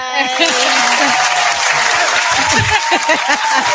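Group clapping around a podcast table of women friends, a rough, close patter of hands running beneath overlapping lively voices and chatter.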